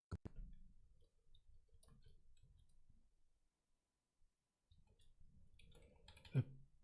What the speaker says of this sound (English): Pressing buttons on the keyboard, pressing buttons with my mouse